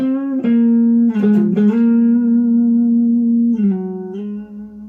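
A solo electric guitar, an ESP LTD EC-256, plays a bluesy lead line, with bent notes and long sustained tones ringing out clearly.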